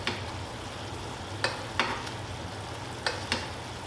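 Redfish frying in a pan while being basted, a steady low sizzle broken by a few sharp spoon clicks against the pan, close and fairly quiet, with no talking.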